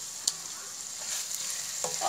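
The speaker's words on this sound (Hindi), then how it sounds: "हम इसको फ्राई करेंगे थोड़ा सा" Minced meat keema sizzles in a karahi with garlic ginger paste while being stirred, a steady soft frying hiss with occasional light scrapes of the spoon, fairly quiet and alone.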